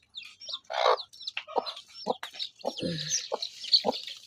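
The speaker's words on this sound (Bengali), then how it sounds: "আমার এই ঝাঁপির তলে আমার মুরগি ছানা, মুরগির বাচ্চা।" Hen and chicks clucking and peeping beneath a woven basket cover in a rural village yard, with a run of short, close clucks and high chirps in quick, uneven bursts and no talk.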